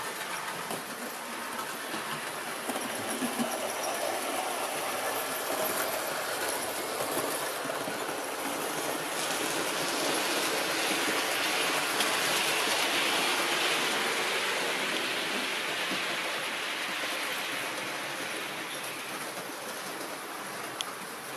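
Hornby Thompson A2 model locomotive running through a station on a layout with ballasted track, a steady continuous rattle and clatter of wheels on rails that swells slightly midway and then eases off, with no voices.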